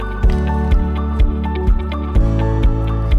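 Sunflower seeds and almonds stirred together in a bowl, a steady sequence of about eight regular scraping, squishing strokes, close and loud against a constant low hum.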